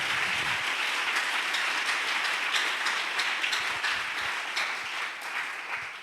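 Church congregation applauding the Lord during a French-language service, a loud sustained wash of dense clapping from a crowd that tapers slightly toward the end.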